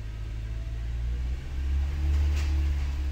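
Idling 2008-2012 Honda Accord engine with a steady low hum that swells and rises partway through as RPM is raised, close and continuous with no talk.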